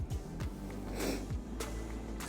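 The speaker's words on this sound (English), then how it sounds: "Excuse the sniffs" Several short, quiet nasal sniffs sound close to the microphone at a steady indoor level while someone swatches nail polish with a shiny top coat, and no one speaks.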